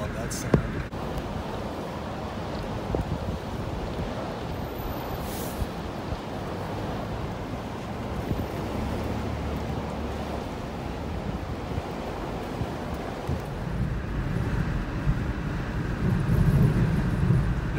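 Strong blizzard wind in East Denver roaring continuously into the microphone, a dense, loud rushing that swells toward the end, with people talking over it.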